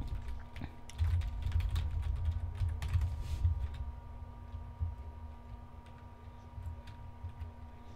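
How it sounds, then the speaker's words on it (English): Rapid clicking of a computer keyboard during an LSRP basketball roleplay game session, quiet bursts of close keystrokes over a faint steady hum, no talking. "my typing sucks"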